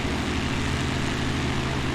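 A BN-2 Islander twin propeller plane taxiing in Microsoft Flight Simulator 2020, its engines giving a loud, steady, close droning roar with a throbbing low hum and no break.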